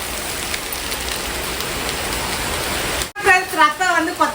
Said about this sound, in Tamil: இந்த மழை பாருங்க படிக்கட்டுல தண்ணி வந்து